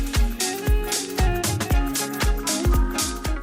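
A snippet of a song is played on a morning radio show: punchy music with a steady thumping bass beat and sustained tones, loud and clear with no talk over it.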